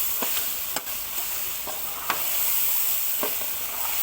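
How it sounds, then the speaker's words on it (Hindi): Chicken karahi with tomatoes being stirred and roasted in a pan: continuous close frying sizzle broken by sharp spatula scrapes and knocks at irregular intervals, with no voices. "अब इसकी अच्छी तरह भुनाई करूंगा मैं।"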